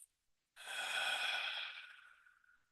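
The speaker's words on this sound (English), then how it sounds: "and breathe out." A slow, audible breath out during a guided group breathing exercise, a single long airy exhale that swells then gradually fades, close and soft with no talking.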